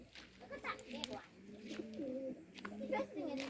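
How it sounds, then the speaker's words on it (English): Birds coo and chirp softly in the background while a child and an adult talk over them. "Hear the birds singing."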